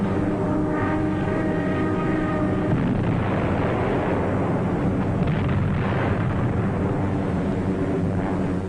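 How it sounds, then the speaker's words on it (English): Anti-aircraft and artillery fire booms along the French coast around the Normandy landings, rolling low and distant beneath a steady drone of aircraft engines that runs throughout. "Approaching the French coast, the ack-ack and gunfire seemed harmless and far away."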